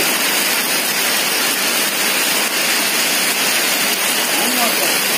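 Heavy rain pours steadily down outdoors during a kite-flying session with a large Bugis pitu-pitu kite, a dense, loud hiss with no break, close and even throughout.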